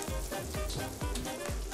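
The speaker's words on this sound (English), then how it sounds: "Oh, look at that sizzle. Listen to that sizzle." Bacon sizzles and crackles as it fries crisp in a pan, a steady close hiss broken by regular bursts of popping fat.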